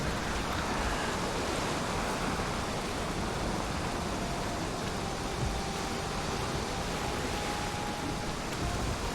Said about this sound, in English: So right now we've got all this stormy weather going on